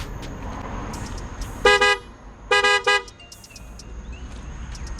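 Upgraded horn on a 2024 Toyota GR Corolla sounds in three short, loud honks, one longer blast followed by two quick ones, with faint background hiss and chirps between them.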